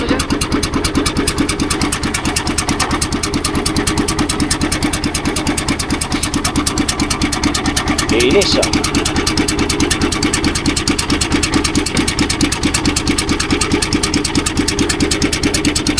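A boat engine runs loud and close with a rapid, even mechanical chatter throughout, and a brief voice cuts in about halfway while the motor keeps going.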